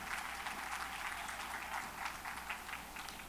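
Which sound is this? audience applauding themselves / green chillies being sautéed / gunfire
audience applauding themselves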